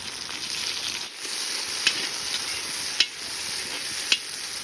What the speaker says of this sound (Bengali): দেখতে পাচ্ছ মামু এখন তেল দিয়ে দিল কড়াইতে